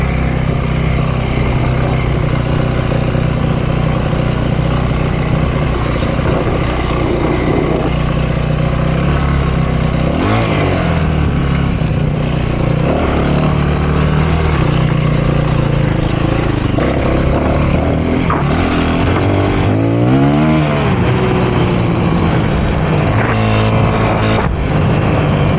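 Dirt bike engine running throughout, loud and steady with rising and falling revs and throttle blips as the rider accelerates and brakes on the trail.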